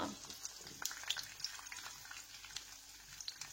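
Urad dal and spices fry in hot oil, giving a continuous fine crackling sizzle with small popping spatters, close but quiet and steady throughout, no one speaking.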